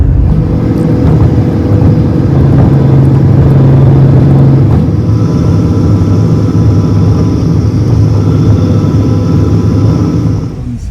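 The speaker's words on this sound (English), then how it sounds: "We are driving through Sapa town." A taxi's engine hums steadily from inside the car as it drives along a mountain road through Sapa town in northern Vietnam, with a continuous loud rumble and a slight shift in tone midway.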